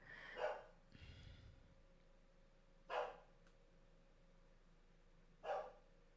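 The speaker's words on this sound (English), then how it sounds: "My dog's barking." A pet dog barking somewhere in the house, three short separate barks spaced a couple of seconds apart, faint and muffled at a distance against a quiet background.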